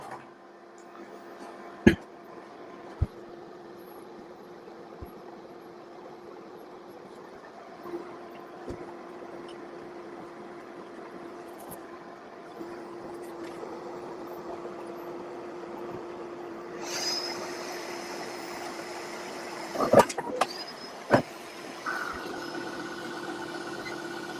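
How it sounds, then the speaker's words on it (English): A Bambu Lab P1S 3D printer loads a filament spool with a quiet motor whir, a few sharp clicks, and then louder mechanical movement and clunks toward the end, heard close in a quiet room. "Spool loading."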